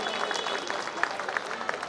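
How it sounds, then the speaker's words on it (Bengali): An audience claps at a Saraswati Puja stage event at an Officers' Club, giving a short burst of even, moderately loud applause with a few sharper claps standing out. "একটা জোরে হাততালি"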